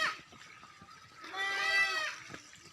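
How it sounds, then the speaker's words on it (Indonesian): Goats bleating beside a goat pen along a narrow mountain trail, with several wavering bleats overlapping in a cluster, fairly close and clear above quiet outdoor background. "ada suara-suara kambing"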